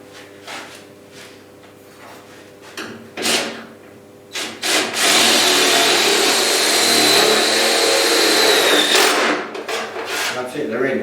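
A whiz gun drives screws into a Mk 1 Ford Escort's bubble arch. Several short whirring bursts lead into one long, loud, steady buzz that lasts about four seconds, followed by some rattling handling noise.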